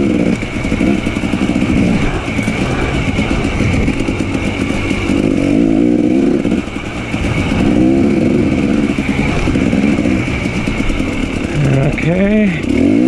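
Dirt-trail motorcycle on a 100 km solo loop in Kawartha Lakes, its engine droning loud and steady, then briefly dropping and surging as a gear shift is missed, with engine whine rising near the end.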